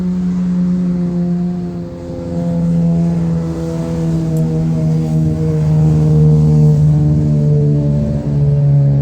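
Motor vehicle engine droning nearby in Lakeland, Florida, a steady low hum that swells slightly as it passes, loud and continuous with no talk over it.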